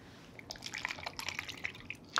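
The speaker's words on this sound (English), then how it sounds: "I'm gonna strain out our pearls." Alginate pearls being strained out of a calcium chloride bath, with soft wet drips, light liquid splashes and small tinkling clicks scattered irregularly and fairly faint, with no talking.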